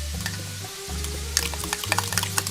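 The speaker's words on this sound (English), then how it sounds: "So now what I'm going to do is stir this up and beat it." Flour is stirred and beaten into a Marsala gravy in a pan, producing scraping, tapping utensil strokes that grow busier in the second half over a low, steady hum and gentle sizzle.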